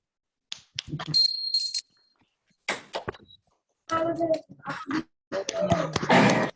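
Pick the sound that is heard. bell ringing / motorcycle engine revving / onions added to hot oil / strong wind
bell ringing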